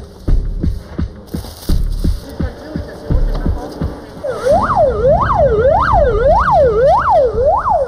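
An ambulance siren in a city starts after a few seconds of rhythmic tapping and background noise, then wails in a steady rising and falling cycle, loud and close, over ongoing street noise.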